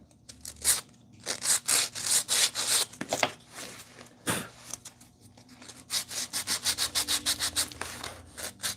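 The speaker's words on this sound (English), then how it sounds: "this is sanding a lot better than I thought it was going to" Hand sanding of a wooden piece in a carpentry shop, a series of rhythmic rubbing strokes, close and fairly loud, with a short pause midway and a faster run of strokes toward the end.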